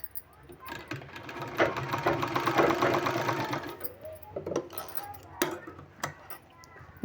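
A sewing machine stitches folded fabric for palazzo pants in a close, rapid mechanical run that stops and restarts, followed by scattered ticks and clacks from handling.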